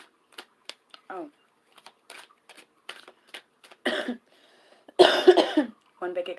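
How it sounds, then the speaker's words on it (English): Scattered short coughs and throat clearing from one person indoors, close and intermittent, with a louder fit of coughing toward the end and brief quiet gaps between bursts. "One big excuse me for any and all stoner coughs."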